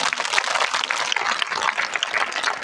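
A crowd claps loudly and continuously, a dense close burst of applause with no voices over it.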